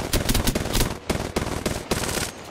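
Rapid bursts of gunfire from the battle royale game Apex Legends, several loud close strings of shots broken by brief pauses, with no talking over them.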